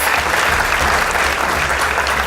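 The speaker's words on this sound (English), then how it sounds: "A round of applause for the Kenya Red Cross." A round of applause for the Kenya Red Cross rescue team at an interview event, a full, even roar of many clapping hands held at a constant level throughout, loud and close.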